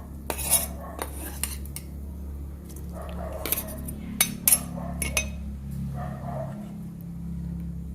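Metal utensils clink and scrape against a pot while a grilled pork herb salad is tossed, scattered sharp clinks spread over several seconds above a low steady background hum.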